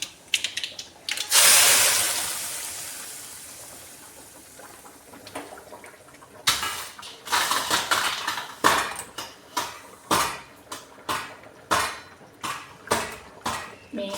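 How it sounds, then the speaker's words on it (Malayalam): Fish curry being stirred in a pot in a home kitchen, giving a steady run of repeated spoon-on-metal scrapes and clinks that follow a louder, hissing splash of liquid being poured in. "മീൻ കറിക്ക് ഇളക്കുകയാണ് ഗൈസ്."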